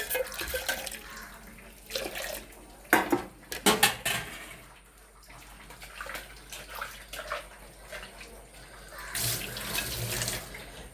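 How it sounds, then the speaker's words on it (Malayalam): Water from boiled chickpeas being poured into a pan of masala, several bursts of close splashing and trickling with pan clatter between them, followed by quieter handling. "കടല പുഴുങ്ങിയ വെള്ളം ഒഴിക്കുക കേട്ടോ."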